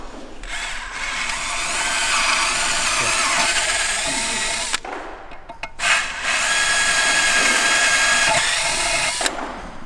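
A power drill bores steadily into an engine block to prepare threads for a helicoil repair during a manual conversion on a Nissan Skyline, running loud and close in two long bursts separated by a brief pause.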